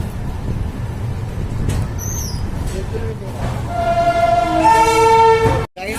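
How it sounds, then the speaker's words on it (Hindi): Karmbhoomi Express (Amritsar–New Jalpaiguri) pulling into Moradabad station: steady low rumble of the arriving train, with a loud sustained multi-tone horn sounding near the end before cutting off abruptly. "यहाँ पर ये 8 मिनट लेट आई है ट्रेन, 5:38 पर आई है"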